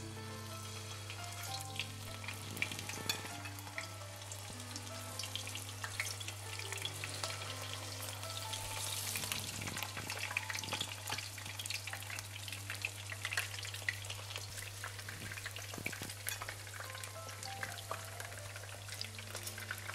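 Oil sizzles and crackles steadily as eggplant fries, with faint stirring and scraping sounds over a low, constant hum.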